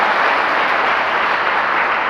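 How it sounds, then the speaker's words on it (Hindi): A workshop audience claps together in a dense, steady burst of applause that fills the room, loud and without talk. "आप सभी लोग एक बार ताली बजाइए पहले"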